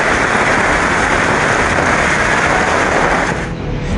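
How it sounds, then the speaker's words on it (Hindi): Heavy, continuous rain pours down in Kolkata ahead of Cyclone Yaas, a loud, dense hiss that is steady throughout and eases slightly at the very end. "पूरे राज्य में पिछले 24 घंटे से लगातार बारिश हो रही है"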